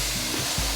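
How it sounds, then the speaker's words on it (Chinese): Bitter melon pan-frying in a hot pan, a steady close sizzle of frying that holds without a break for a brief moment. "苦瓜讓它鋪平均，煎一下。"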